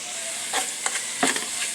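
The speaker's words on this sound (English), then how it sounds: "So the ground beef is still browning." Ground beef browns in a skillet for street tacos, a steady close sizzle and hiss broken by a few soft stirring scrapes.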